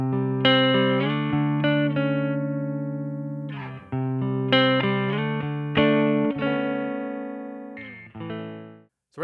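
Clean electric guitar chords from a KLOS Artemis carbon fiber guitar ring out and sustain through a Fender Princeton Reverb tube amp, two strummed phrases with a brief pause, ending on a few softer plucked notes.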